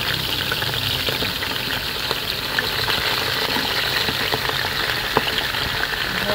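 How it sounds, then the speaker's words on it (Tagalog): Steady, crackling sizzle of pork mesentery deep frying in hot oil, with dense popping bubbles throughout and no voices. "diretso na po natin yung prito"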